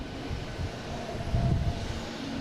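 A British Airways Boeing 777 airliner at Boston Logan Airport gives a steady broadband engine roar. The rumble swells slightly partway through and holds at a distant, continuous level.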